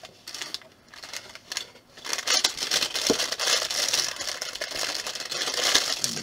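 A white plastic bag from a LEGO Brickheadz set crinkled and handled close by, with irregular crackling that starts sparse and grows into a denser, busier rustle.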